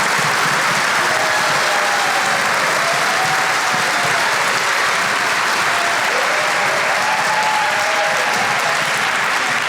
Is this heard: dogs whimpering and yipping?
no